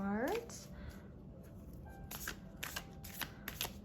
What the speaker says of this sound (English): I'm going to start by pulling some oracle cards.